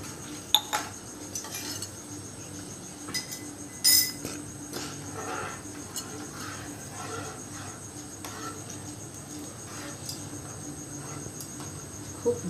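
A spoon stirs and sautés misal masala with boiled matki sprouts and water in a home cooking pot, giving scattered soft scrapes and light metallic clinks over a steady high insect chirping in the background.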